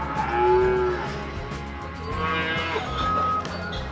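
Cattle moo on a large Arizona desert ranch running about 300 head, with several drawn-out calls rising and falling over a few seconds, fairly close and clear against outdoor ambience.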